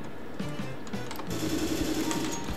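Rapid gunfire from a first-person shooter game played with a Tt eSPORTS Ventus mouse, heard as short bursts of quick repeated shots at moderate loudness.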